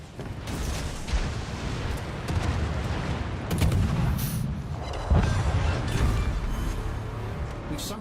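Warship guns and torpedo launches in World of Warships, deep rumbling booms and heavy blasts layered over a constant low roar, with a couple of stronger hits near the middle and a few faint voice fragments.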